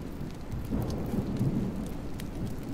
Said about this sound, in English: Yeah, the storms are out of control on this map.